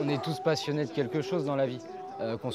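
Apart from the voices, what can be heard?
No distinct noise like a dog, phone or traffic.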